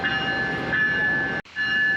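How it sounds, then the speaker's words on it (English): An Amtrak train stands idling during uncoupling of its P42DC locomotives, a steady mechanical hum with a faint high tone, briefly cut by a sharp dropout before the drone resumes. "They are getting started with the uncoupling process."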